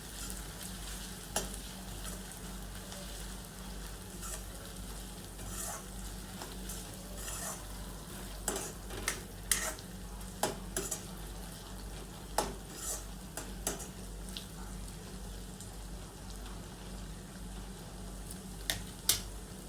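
Ground ginger, garlic and green chili paste fries in oil for palak bhaji, a steady broadband sizzle with occasional sharp spatters and light scrapes of stirring, constant and close throughout.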